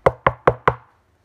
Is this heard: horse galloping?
no